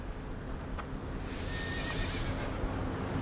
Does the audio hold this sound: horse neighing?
yes